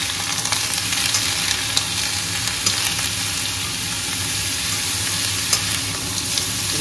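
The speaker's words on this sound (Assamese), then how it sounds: "অকণমান ভাজিম এতিয়া" Pork frying with onions in a pan for a lemon-flavoured pork curry, a loud dense sizzle with light stirring scrapes throughout, close up and with no talk.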